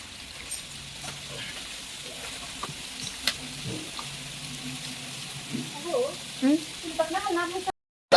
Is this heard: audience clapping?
no